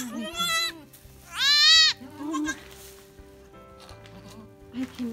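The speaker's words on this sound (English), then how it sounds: "So we have five baby goats." Newborn baby goats, a litter of five, bleat in loud wavering cries close by, two strong calls followed by softer ones, with background murmuring.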